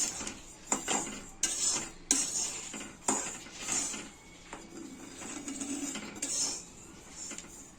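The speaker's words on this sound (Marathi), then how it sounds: "नीट असे आपण तीळ भाजून घेणार आहोत" Sesame seeds for til ladoo are roasted in a pan and stirred steadily, giving repeated close scraping and clinking strokes against the metal with a soft dry rustle between them, without any talk.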